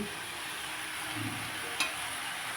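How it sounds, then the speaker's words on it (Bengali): Leafy telakucha greens and chopped vegetables stirred in a pan with a soft scraping rustle and faint sizzle, one brief sharper clink near the end, no talking. "পাতাগুলোও আমি ভালো করে সমস্ত সবজির সাথে মিশিয়ে নেব"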